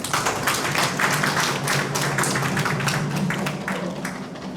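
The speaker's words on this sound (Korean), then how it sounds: "교육감님께 다시 한번 큰 박수 부탁드립니다." Audience applause for a school superintendent at an education planning briefing in Jecheon, a dense, steady wash of many hands clapping that carries evenly and fades slightly toward the end.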